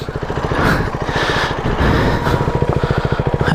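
A KTM 390 Duke single-cylinder engine revs hard and close while the motorcycle drifts in snow, with a rapid pulsing throb rising and falling in repeated surges.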